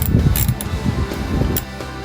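A ratcheting tool tightens down the LED taillights on a Jeep Gladiator, a loud close run of quick clicking ratchet strokes.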